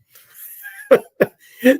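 Three sharp coughs from one person, close and loud, following a brief breathy inhale, with short pauses between each cough.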